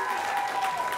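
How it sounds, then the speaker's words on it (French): Studio audience on a French television talk show breaks into steady, close applause throughout a brief moment, with a sustained tone running underneath. "Je vous demande d'applaudir Keïcha, s'il vous plaît."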